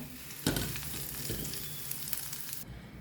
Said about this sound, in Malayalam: ഇനി ലോ ഫ്ലെയിമിൽ തന്നെ വയ്ക്കുക അപ്പോഴേക്ക് ചെറിയ ഉള്ളിയൊക്കെ മൂത്ത് വരുന്നതാണ്